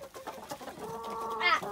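An Asil crossed with Indian Game hen clucks close by in a quick run of short notes, then draws out a longer, rising squawk near the end.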